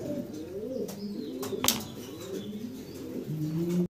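A pair of racer pigeons, including a blue one, coo in rolling repeated phrases close to the microphone, with a brief burst of wing flapping partway through and a low steady murmur continuing to the end.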